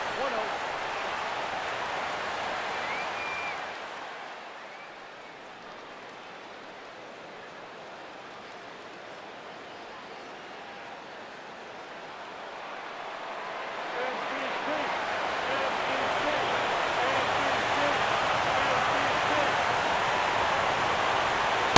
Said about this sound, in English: And this crowd, well, they're definitely making things tough on him out there.